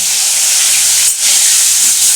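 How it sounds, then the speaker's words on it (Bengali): Pointed gourd seeds fry in hot oil as a loud, close, steady hiss and sizzle that briefly dips mid-way before resuming. "এটা একটু ভালো করে ভেজে নিই তারপরে।"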